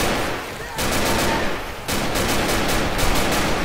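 Rapid automatic gunfire in the zombie shooter Left 4 Dead 2, sustained dense bursts of shots broken by two brief pauses, loud and close throughout.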